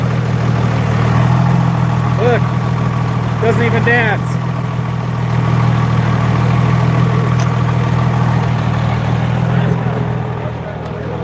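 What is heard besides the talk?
record-setting 4,461 hp Cummins diesel truck engine idling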